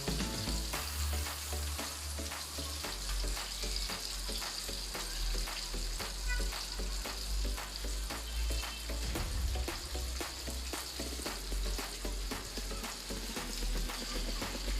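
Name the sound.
chicken broast frying crisp in oil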